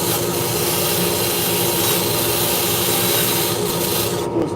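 A gritty nylon bristle brush scrubs steadily against spinning turned wood on a lathe, giving a loud, continuous abrasive rasp that holds even for several seconds before easing off at the very end.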